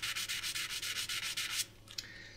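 Hand sanding of a scratched metal part from an IWC watch with calibre 853 movement, a rapid rhythmic scratching of about a dozen close strokes that stops abruptly, followed by a couple of small taps and quiet.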